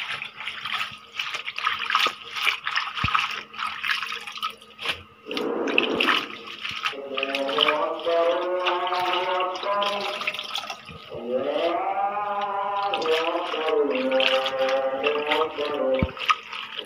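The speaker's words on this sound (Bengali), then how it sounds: "শাকটাকে ধুয়ে ফেলবে এখন।" Water running from a tap into a sink while leafy greens are washed by hand, a continuous splashing stream with a voice speaking and a brief melodic call over it midway.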